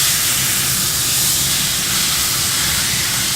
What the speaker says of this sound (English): I'm going to get the pork shoulder seared off on all sides.